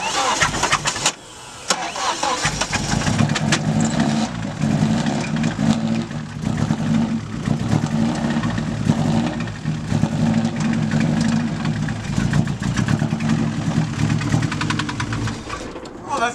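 Pink car's engine cranks over and catches, then runs with a rough, loud, steady mechanical roar and rattling that fills the whole stretch, with a brief dip near the start.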